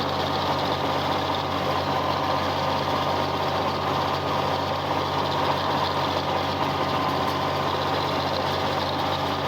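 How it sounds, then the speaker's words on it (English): A gas tractor engine runs steadily at idle nearby, a constant low rumble with a slight rough knock, no voices. "This is a gas tractor."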